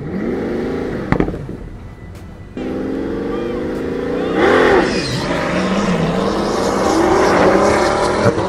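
A car powered by a Mercedes-AMG twin-turbo 6-litre V12 revs loudly, its pitch rising and falling in sustained sweeps that carry on through the whole stretch.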